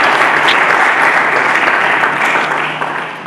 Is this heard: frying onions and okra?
no